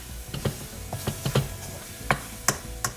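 Cauliflower sautéing in a pan for a Bengali/Indian-style roast, with irregular clicking and scraping strokes of stirring over a soft, steady sizzle, fairly close.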